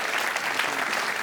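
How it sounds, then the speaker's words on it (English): Steady, dense applause from an audience for chefs at a cooking show, loud and continuous with no voices standing out. "Let's have another round of applause for our chefs."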